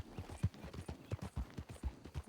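Horse hooves clip-clop in a steady, even rhythm from a horse in a video game, fairly close and clear with no talking over them.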